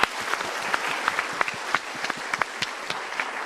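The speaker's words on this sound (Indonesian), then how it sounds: "Kita berikan tepuk tangan dukungan dulu." Audience applause breaks out in support at a motivational talk show, a dense and steady patter of many hands clapping fairly close for several seconds, with no one speaking over it.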